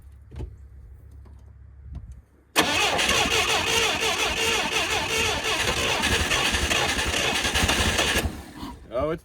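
A forklift engine with its choke and solenoid newly hooked up cranks and catches, roaring loudly and steadily for several seconds after a few faint knocks and clicks, then cutting off abruptly.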